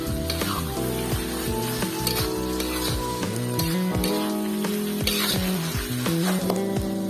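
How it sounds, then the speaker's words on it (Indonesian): Shredded smoked tuna and basil sizzle loudly and steadily in a hot frying pan, with intermittent stirring clatter over the constant crackle. "Kita masak sebentar saja"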